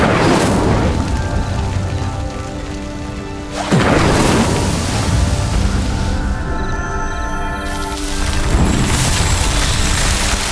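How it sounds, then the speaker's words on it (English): Loud roaring and crackling fill the scene as a pyre sinks in flames after an Incendio spell in Hogwarts Legacy. Deep rumbling booms surge at intervals over a continuous dense rush with no talking. "The flames make the pyre sink."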